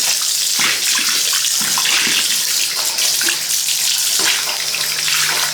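A cold bathroom tap runs in a steady, close rushing stream while a sponge is rinsed under it. Some slightly louder splashes and shifts in the flow come through, with no voices.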